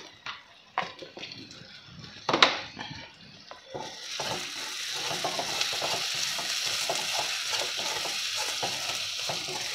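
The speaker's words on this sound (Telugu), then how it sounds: "ఎరుపు రంగు వచ్చే వరకు వేయించుకోవాలండి." Onions fry with salt in a pan for aloo kurma. Sharp spoon-on-pan clatters come first, then a louder, steady sizzle takes over with intermittent stirring scrapes.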